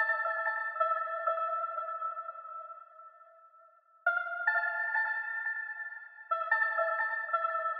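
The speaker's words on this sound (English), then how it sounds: "So I sort of found like a synth bell from Mellotron." Mellotron synth bell sample ringing in sustained, layered tones with reverb and delay, playing alone in three loud phrases separated by a brief dip and swell.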